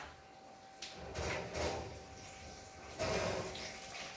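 An oven door is opened in a kitchen to take out roasted cauliflower, giving a few quiet clunks and a soft sliding scrape of metal, faint and close by.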